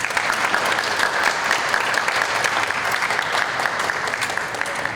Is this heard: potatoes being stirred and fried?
no